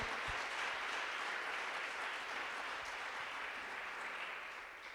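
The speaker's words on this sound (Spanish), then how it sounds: "Pues dale ese aplauso" A church congregation applauds together, a dense steady clapping that holds evenly and then starts to fade slightly toward the end, with no voices over it.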